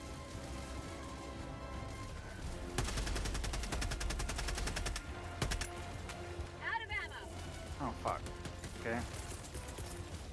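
An enemy turret in Helldivers 2 fires rapid bursts of automatic gunfire, with sharp repeated cracks in dense runs between pauses, mixed with other battle noise and voices.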